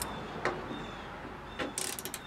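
A ratchet wrench loosens headlight bracket bolts on a Mercury Montego, giving short bursts of quick, close clicking, the last burst a rapid run of sharp ticks.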